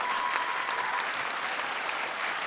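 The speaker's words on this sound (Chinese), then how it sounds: "拍手" Steady clapping from a studio audience at a Taiwanese television singing show, dense and continuous throughout at moderate distance, with no break.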